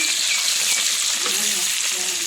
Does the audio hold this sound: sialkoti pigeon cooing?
no